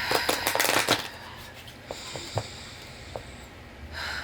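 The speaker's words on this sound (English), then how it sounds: "just gonna shuffle the deck," Tarot deck being shuffled indoors: a dense flurry of riffling card flicks up front, then a few scattered taps and soft handling sounds in a quiet room with a faint steady background tone.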